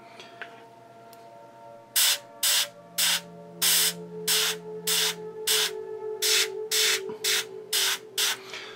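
An airbrush sprays paint onto a Sheriff of Nottingham miniature in a dozen short bursts of hissing air, each about half a second, close and regular, over a faint background hum.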